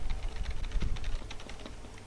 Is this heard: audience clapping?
no